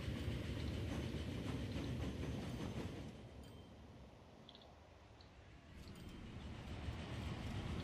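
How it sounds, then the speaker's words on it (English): Fuel train rolling along the tracks in the video game Transport Fever, a steady rumbling clatter of rail cars that eases off midway and then builds again. "It's the fuel train."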